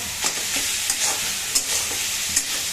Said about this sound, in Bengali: আর একটু সময় নেড়ে চেড়ে এটাকে নামিয়ে ফেলবো।